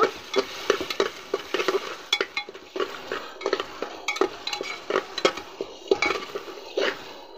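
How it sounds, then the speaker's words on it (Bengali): Spice paste with salt, turmeric and coriander powder being sautéed in a pan, a faint sizzle under a steady rhythm of repeated scraping and clinking spatula strokes against the metal, close and unvoiced. "মশলাটা এখন আমি ভালো করে কষিয়ে নেব"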